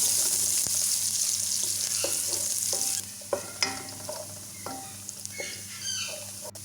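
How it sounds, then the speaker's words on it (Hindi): Chopped onions fry in oil with cardamom for kadhi pakora. A strong, bright sizzle dies down after a few seconds, then scattered spoon scrapes and stirring knocks sound over a gentler crackle. "अब जो मैंने प्याज चॉप करके रखा हुआ था वो इसमें ऐड कर देंगे और इसको फ्राई कर लेंगे"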